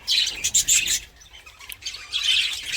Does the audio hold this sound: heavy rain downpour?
no